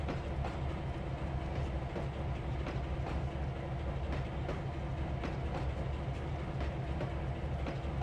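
A simulated freight train in Trainz 2022 hauls railroad cars off a siding, wheels clicking steadily over rail joints under a continuous low engine rumble, close and even throughout.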